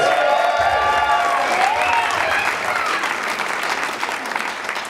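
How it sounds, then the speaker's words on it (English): A crowd at a film festival reveal party gives Tim a round of applause, loud and sustained clapping that tapers slightly, with a few faint voices mixed in. "Let's give Tim a round of applause"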